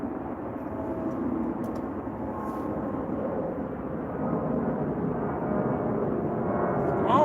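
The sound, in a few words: airplane passing overhead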